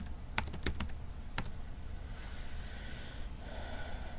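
Keys clack in a brief burst on a computer keyboard as ipconfig is typed at a command prompt, several close, sharp strikes early on, then fading into quiet room noise with soft breathing.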